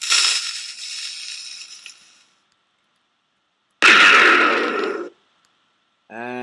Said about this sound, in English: So, firing thick glass block in 3,